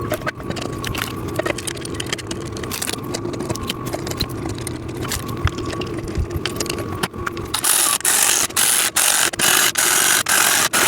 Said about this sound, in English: then you are screwing those in on either side